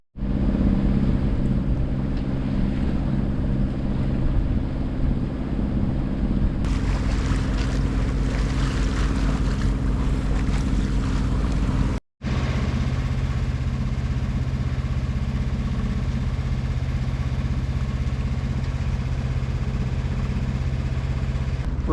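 A sailboat motoring under engine into a light headwind on a smooth sea, with a steady loud engine drone, wind rushing over it and water washing past the hull, broken by one brief dropout.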